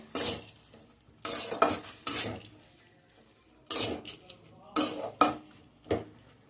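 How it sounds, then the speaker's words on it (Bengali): Washed masoor lentils for a jute-leaf dal are stirred in a pan, heard as several separate bursts of scraping and clattering spoon-on-metal with soft sizzling, quiet pauses between each stir. "এবারে যে ডালটা আমি ধুয়ে রেখেছিলাম মসুর ডালটা সেটা আমি এর মধ্যে দিয়ে দিচ্ছি আর তো আমি নাড়াচাড়া করে নেবো"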